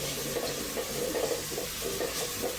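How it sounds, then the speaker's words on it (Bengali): Spices frying and being stirred in a pan give a steady, close sizzle with soft rhythmic scraping running throughout, no voices. "মশলাটা দিয়ে দিলাম, এখন এটাকে ভালো করে কষাবো।"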